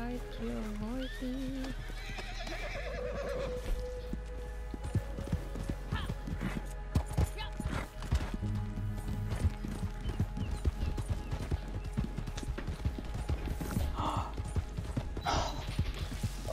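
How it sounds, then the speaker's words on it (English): A horse in the Red Dead Redemption 2 video game gives a wavering whinny at the start, then its hooves clip-clop steadily and busily beneath a constant low rumble, with a brief snort near the end. "Can I ride your horse?"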